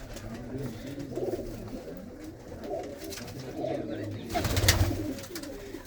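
Pigeons coo in low, throaty bursts in a pigeon loft against a busy background, with faint voices and rustling around them; the cooing swells louder near the end.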